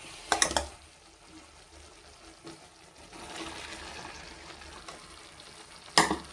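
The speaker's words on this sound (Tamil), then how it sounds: "இப்போ நம்ம கத்திரிக்காய் சேர்த்துக்கிறோம்." Eggplant pieces go into tomato masala frying in oil for Nellai-style brinjal thokku, with a short sizzling burst at the start, a soft low frying hiss, and another brief sizzle near the end.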